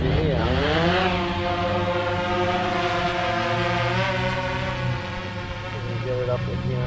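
A DJI Phantom 4 Pro V2 drone lifts off in an open field, its propellers giving a loud, steady buzzing whine that rises in pitch and then holds as it climbs.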